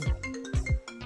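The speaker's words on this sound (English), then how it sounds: "I hate when your phone is connected to your damn computer and you mute your phone and then your damn computer start ringing" A computer linked to a muted phone rings with an incoming call, sounding a short, repeating electronic ringtone with clear tonal pulses, alone and fairly loud.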